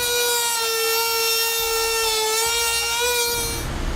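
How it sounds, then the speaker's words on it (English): Steady high-pitched whine of a cutting wheel trimming the plastic bumper fascia of a 2015 Ford C-Max, holding one tone for nearly four seconds before cutting off, loud and close with no talking. "we're going to be using our cutting wheel to trim this out."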